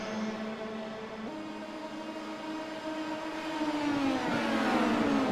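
Race car accelerates down the back straightaway, engine tone climbing steadily in pitch with a brief shift, growing louder as it approaches over a broad roar.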